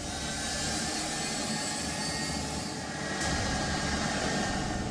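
Jet aircraft engines roar steadily on an airport runway in Afghanistan, a loud, dense, continuous rumble and whine with no pauses and no voices.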